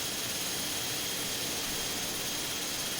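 Steady, loud roar of an AI traffic jet airliner's engines during takeoff in Microsoft Flight Simulator, a continuous broadband rush with a high whine, no voices.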